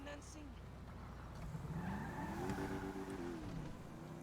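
A car drives and skids in Grand Theft Auto V, with a steady engine drone and rising tire squeal tones; a voice talks over the driving throughout.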